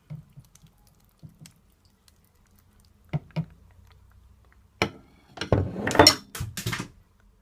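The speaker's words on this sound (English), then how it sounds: "just give it a stir." Potato salad being stirred with a mayonnaise and coconut cream dressing, soft wet squelches and scraping against the bowl, sparse at first and then building into a busier, louder run of stirring near the end.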